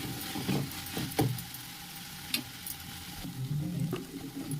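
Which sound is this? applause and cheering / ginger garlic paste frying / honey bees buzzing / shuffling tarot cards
ginger garlic paste frying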